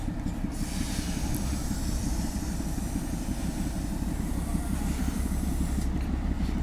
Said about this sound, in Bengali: দার্জিলিংয়ের বিখ্যাত টয় ট্রেন।